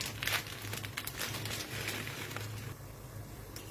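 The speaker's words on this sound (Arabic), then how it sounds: "انا هنزل بنص كيس مكرونه اسباجيتي ونص كيس مكرونه خواتم بالشكل ده" Dry spaghetti and thin ring pasta poured from a bag into a cooking pot, giving a continuous crinkling, pattering rattle with a rustle of plastic packaging throughout.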